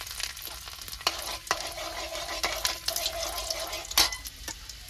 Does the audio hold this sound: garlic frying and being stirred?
yes